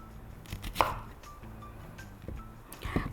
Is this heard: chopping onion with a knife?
yes